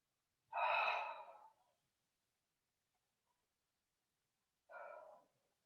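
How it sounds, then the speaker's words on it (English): Two slow, deep breaths during a relaxing de-stress workout, each a soft airy exhale lasting about a second, close and quiet with silence between them. "taking a couple of nice deep slow breaths"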